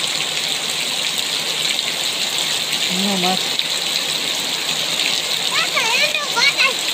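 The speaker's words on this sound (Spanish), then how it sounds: "aguacero se nos soltó aquí en Michoacán" A heavy downpour in Michoacán sends a steady, loud roar of rushing, gushing water throughout, with someone speaking briefly over it and a few short voiced sounds near the end.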